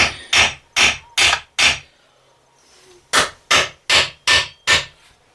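Hammer tapping on the case of a 2009 Subaru Forester during a repair, two bursts of five sharp, evenly spaced metallic knocks separated by a brief pause, loud and close with no talk.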